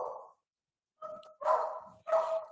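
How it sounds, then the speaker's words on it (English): A dog barks in a home near a two-car garage: one short bark, a pause, then two more sharp, close barks in quick succession. "Is that your dog?"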